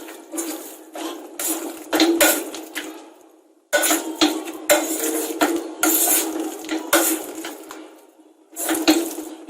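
Close, repeated scraping and clinking of a utensil against a metal pressure cooker as cooked lentils are mashed, in uneven bursts with brief pauses.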